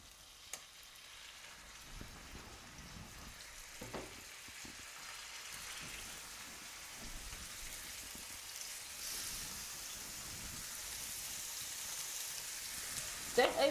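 Rabbit burgers fry in a pan with a steady, soft sizzle that builds gradually, carrying a faint crackle and a few brief clinks near the end.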